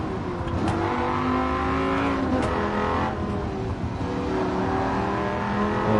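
Dodge Viper race car in Gran Turismo 7 roars steadily through a race, its engine revving up and down with gear changes, loud and continuous with other cars nearby.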